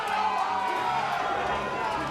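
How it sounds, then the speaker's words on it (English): Crowd at a Super Smash Bros. Melee tournament, LMM Miami 2023, screaming and cheering during a Sheik versus Captain Falcon match; a dense, steady roar of many voices under commentator talk. "People are screaming like crazy"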